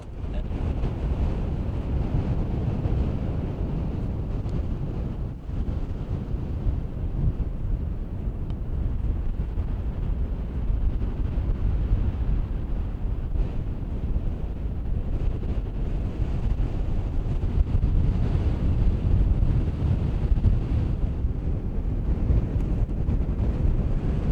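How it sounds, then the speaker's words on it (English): Strong wind buffets the microphone outdoors in Peru in a constant low roar for the whole stretch, gusting slightly louder at times, with no voices. "It's so windy."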